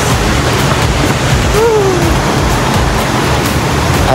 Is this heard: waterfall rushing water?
yes